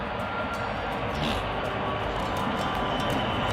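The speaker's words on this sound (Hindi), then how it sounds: "ये ट्रेन है जी, इंजन देख लीजिए आप।" A train engine idles at a Paris station, giving a steady broadband rumble and hiss that holds evenly throughout with no talk over it.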